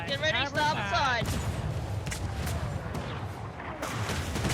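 Pirate ship cannons let loose a starboard broadside in a roleplay video game, a run of heavy booms and crashing blasts rolling through the whole stretch while voices shout over the barrage.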